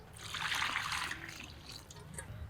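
Pieces of goat meat are rinsed in water, giving a soft, steady trickle and slosh with light splashes, faint and close, with no talking.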